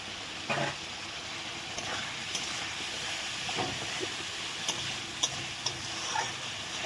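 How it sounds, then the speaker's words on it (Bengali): Spice masala with green chili and Kashmiri chili powder sautéing in a pan for a papaya dish, giving a steady soft hiss with occasional light scrapes and clicks of stirring, fairly quiet throughout. "ভালো করে মশলাটা কষিয়ে নিচ্ছি"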